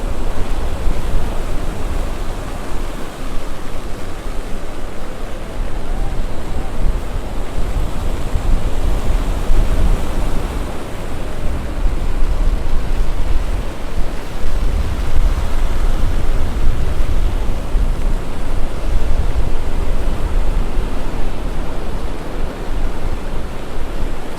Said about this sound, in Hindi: तो भाई समुद्र के पानी में काफ़ी अच्छी खासी लहर आ रही है, जैसा कि आप सब देख सकते हैं।